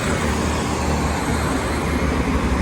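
Busy road traffic on a Turkish street, a steady broadband wash of passing cars and engine rumble heard close by throughout, with no talking.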